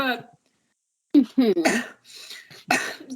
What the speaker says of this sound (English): Are you coughing in my lab?